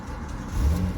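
A car engine catches and revs after being jump-started from a HowTo Boost Plus portable booster on a dead battery, a steady low rumble that swells louder in the second half.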